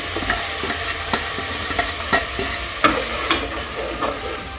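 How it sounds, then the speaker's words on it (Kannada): Ground spinach masala frying with onion and tomato in a pan, giving a continuous sizzle with regular stirring clicks and scrapes close by. "ಇದನ್ನು ಚೆನ್ನಾಗಿ ಈರುಳ್ಳಿ ಟೊಮೊಟೊಂದಿಗೆ ಚೆನ್ನಾಗಿ ಫ್ರೈ ಮಾಡ್ಕೋಬೇಕು."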